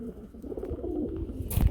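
Low, soft cooing of a pair of pigeons over a muffled background, with a brief louder rustle or flutter at the end.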